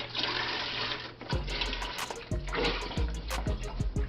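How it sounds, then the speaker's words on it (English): Chicken broth pouring into a pot for seafood gumbo, a steady watery rush running the whole time, with a few soft knocks and a low hum around it. "What we're going to do first is add our chicken broth to the pot."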